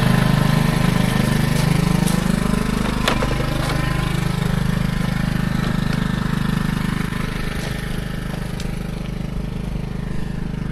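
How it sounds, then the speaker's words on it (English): A tractor engine chugs up a lane, a loud steady low rumble with a pitch that climbs slightly as it approaches and then holds, heard close and alone without talking. "just noticing a tractor coming up the lane"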